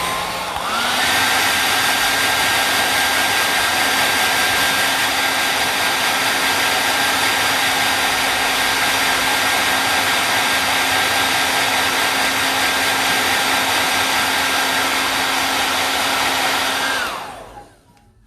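A hair dryer blows on watercolor masking fluid on a strawberry painting. Its loud, steady whirring whine runs alone without a break for about seventeen seconds, then cuts off and winds down.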